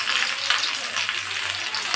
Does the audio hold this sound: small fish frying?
yes